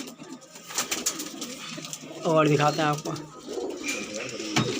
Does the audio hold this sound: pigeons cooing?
yes